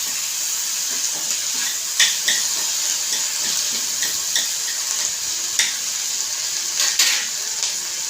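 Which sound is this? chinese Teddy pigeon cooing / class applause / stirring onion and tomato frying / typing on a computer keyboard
stirring onion and tomato frying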